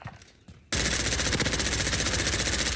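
An AS VAL rifle in a video game fires one long, fast, continuous burst that starts abruptly and stays loud and dense after a quiet opening moment.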